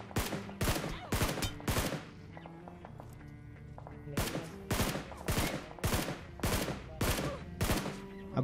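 Repeated loud bursts of automatic gunfire in a battle royale shooter game, several rapid volleys with short gaps between them, up close and sharp, with no talking over them.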